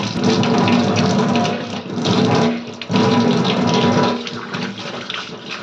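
Running tap water splashes and gushes steadily while tiles, a window ledge and a gas stove are scrubbed clean, a loud continuous wash with brief dips, no talking.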